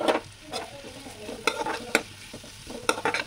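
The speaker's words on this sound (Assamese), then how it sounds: "ইয়াৰ কেৰাহী এখনত তেল দি মই পিঁয়াজখিনি ভাজি ল'লোঁ" Oil sizzles steadily in a pan while a utensil stirs and scrapes onions, ginger, garlic and cumin, with several sharp clatters against the metal.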